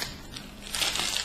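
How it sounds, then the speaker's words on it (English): Plastic bags crinkle and rustle as they are grabbed and handled close by, a brief crackly burst growing louder toward the end. "those bags just make a little bit of noise grabbing them"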